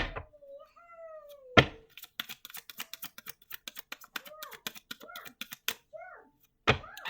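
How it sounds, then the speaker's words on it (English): A deck of cards being shuffled: a run of quick, crisp clicking flutters at close range, with a cat meowing several times before, during and after the shuffling. "I've been shuffling these cards for like a minute now"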